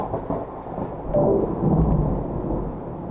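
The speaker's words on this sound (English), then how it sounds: "that was a thunderstorm that came inside also, I think." Indoors, a thunderstorm rumbles with a deep roll of thunder that swells midway and lingers, over the steady hiss of heavy rain with no voices.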